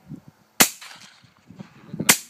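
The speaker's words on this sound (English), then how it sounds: "I heard the shot." Two sharp shotgun blasts fired outdoors at an RC golden eagle model plane, loud cracks about a second and a half apart, with quiet murmuring and faint movement between them.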